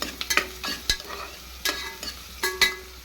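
Onions frying in a pan for egg biryani, a soft sizzle broken by repeated sharp scraping clinks of stirring at irregular intervals, close and clear with no talking.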